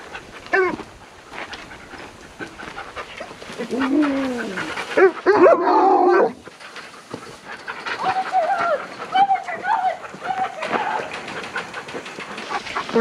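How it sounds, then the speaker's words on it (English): Small dog whimpering, panting and giving a few barks in a household setting, moderately close, with people talking over and between the sounds. "this is my doggy"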